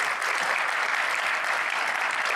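A lecture audience breaks into steady, sustained applause to welcome the speaker presenting on plant-based diets in chronic kidney disease, dense clapping that continues evenly throughout without talk.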